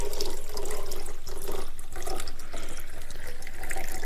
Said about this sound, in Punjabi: ਪਾਣੀ ਭਰ ਦਿੱਤਾ ਇਸ ਗਲਾਸ ਦੇ ਵਿੱਚ।